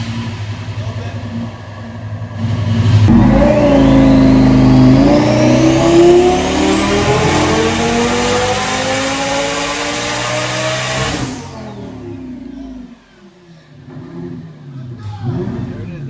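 Boosted Lamborghini engine revving hard on a dyno, a loud rising roar that climbs in pitch for several seconds, holds near the top, then cuts off sharply and falls away into quieter shop noise.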